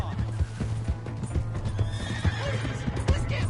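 A horse's hooves clip-clop in a steady, close rhythm in the video game Red Dead Redemption 2, with a neigh rising partway through over faint background sounds.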